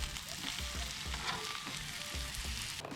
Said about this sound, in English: While the fries are still on the griddle and still crisping up